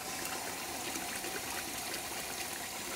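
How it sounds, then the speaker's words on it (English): Water drains steadily from a pot of boiled green beans, a constant rushing, splashing pour at moderate level with no voices. "So what we're going to do is drain out some of this water."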